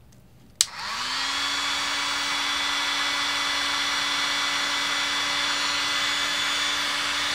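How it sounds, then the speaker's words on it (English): A Mastercraft heat gun clicks on and settles into a steady, loud blowing whoosh with a faint motor whine, pushing hot air onto a K-type cup thermocouple at close range without pause. "I have this Mastercraft from Canadian Tire, and I'm just blowing heat into this"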